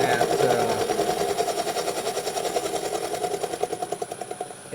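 A milling machine cuts an engine intake manifold for a GMC Motorhome, making a steady high-pitched whine and chatter that pulses rapidly and evenly throughout.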